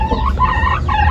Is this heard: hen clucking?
yes